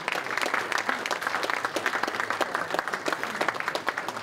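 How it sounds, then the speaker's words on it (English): Audience at a live show breaking into a big round of applause, dense continuous clapping from a crowd, fairly loud and steady with no voices over it. "massive round of applause, give a round of applause"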